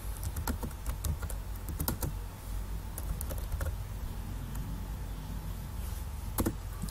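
Rapid keyboard typing as someone enters C# code with dummy address and postcode data, a steady run of close clicks with short pauses and a few louder key strikes, over a low background hum.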